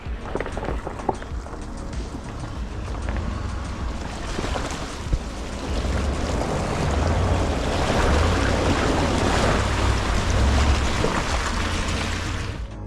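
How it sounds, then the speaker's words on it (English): A truck pushes through a muddy creek crossing on a trail, with a steady rumble and rushing, churning water that swells louder toward the middle and stays close throughout. "Got another pretty big creek crossing here, so should be fun. Real muddy."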